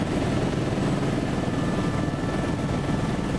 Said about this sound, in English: With 3 helicopters heading for the same landing pad